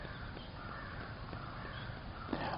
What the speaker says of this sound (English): I think they're just being crows